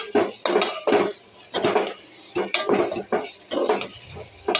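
A spoon scrapes and knocks around a pan while coriander powder is stirred into a brinjal and tomato curry, in rhythmic bursts of close metallic stirring with short pauses between, no speech.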